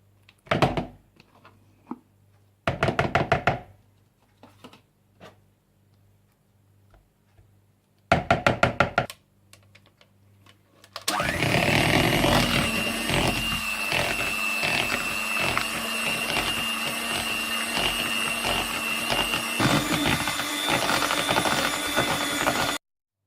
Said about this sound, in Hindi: आप क्रीम चीज और मक्खन डाल लें और इन्हें अच्छी तरह से बीट कर लें